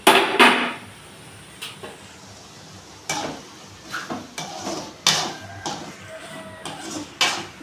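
A metal cooking pot lid lifted off a pot of simmering lamb lung fry, clanking sharply against the rim, followed by a series of lighter clinks and scrapes of cookware at close range.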